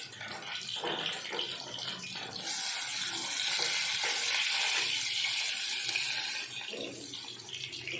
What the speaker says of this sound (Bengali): তেলাপিয়া মাছগুলো লাল লাল করে ভাজা হয়ে গেছে